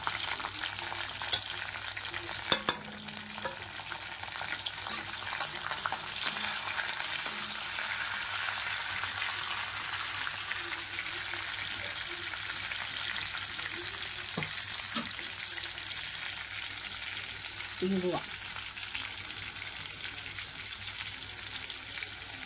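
Mustard seeds and cumin crackling in hot oil for sambar, a soft continuous sizzle with faint sporadic pops and a couple of brief utensil clinks, fairly quiet and without speech.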